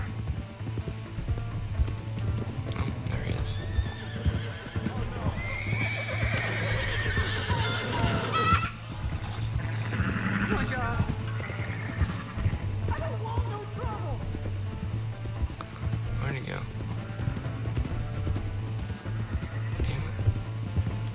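A horse whinnies and hooves clip-clop amid busy Red Dead Redemption 2 game sound effects, with a low steady drone underneath and occasional voices.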